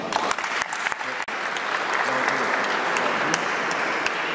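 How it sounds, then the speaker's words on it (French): A congregation at a baptism celebration breaks into sustained applause, dense clapping holding steady and loud throughout. "On peut applaudir aussi."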